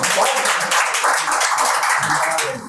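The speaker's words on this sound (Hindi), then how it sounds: "आप ताली बजा दें उनके लिए।" An audience at a poetry and shayari evening applauds for poet Mahak Rajasthani, with dense, steady clapping that holds loud throughout and trails off slightly at the end.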